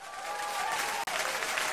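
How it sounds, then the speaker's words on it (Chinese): Audience applause at a televised drama awards gala, a dense, steady wash of clapping that fills the whole stretch loudly, with only a momentary dropout near the middle. "所以今天我提议我们伸出手为自己鼓掌"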